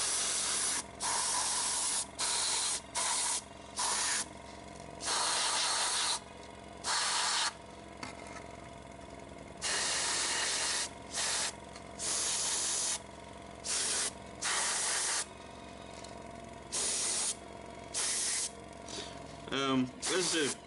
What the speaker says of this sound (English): spray the entire thing with a varnish